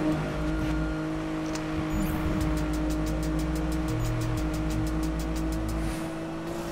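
A car engine in Need for Speed (2015) drones at a steady pitch while driving, close and continuous, with a brief shift partway through and a rapid clicking rattle near the end.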